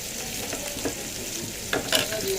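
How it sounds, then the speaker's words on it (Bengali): Dal tempering with five-spice and dried red chilli sizzling in hot oil, a soft steady crackle with a few sharper pops and stirring scrapes near the end, close and fairly quiet. "ডাল ফোড়ন দিয়ে দিয়েছি, 5 ফোড়ন শুকনো লঙ্কা দিয়ে ভালো করে ফুটে নিক এখন"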